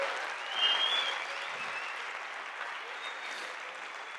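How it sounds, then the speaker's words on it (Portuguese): A church congregation at an evangelical congress applauding together, steady dense clapping that swells briefly and then holds at an even level throughout. "Uma salva de palmas ao Senhor"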